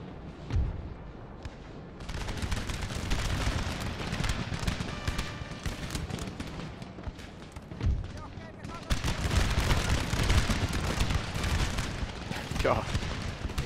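Rapid, dense musket volleys from light infantry skirmishers in Napoleon: Total War, a continuous loud crackle of gunfire with heavy booming underneath, growing fuller and more intense toward the end.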